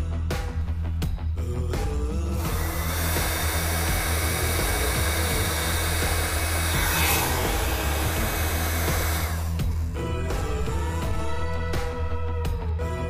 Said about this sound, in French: je chauffe la gaine thermorétractable avec le pistolet à air chaud